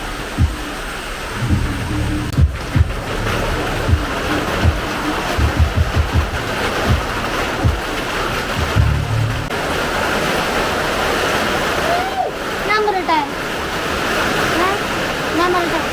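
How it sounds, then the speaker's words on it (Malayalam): Light rain falls steadily outdoors in Kerala-style monsoon weather, a soft continuous patter and wash with occasional bird chirps, while people talk intermittently over it. "ചെറിയൊരു മഴ"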